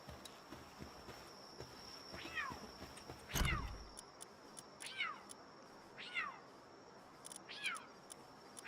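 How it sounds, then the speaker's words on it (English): A cat meows about five times at a regular pace, faint and somewhat distant, over a quiet bed of insect or cricket chirping, with one sharper knock partway through. "I just keep hearing meowing."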